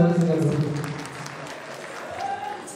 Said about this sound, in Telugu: ఒకసారి అందరూ గట్టిగా చప్పట్లు